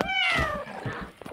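A cat meows once in a Roblox game, a clear, drawn-out falling cry close up, followed by faint background noise.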